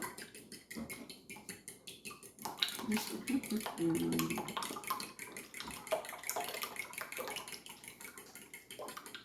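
A spoon clinks and scrapes around a bowl as quiche mixture for a spinach rice quiche is stirred, busy and close, with a faint watery swish and occasional low talk underneath.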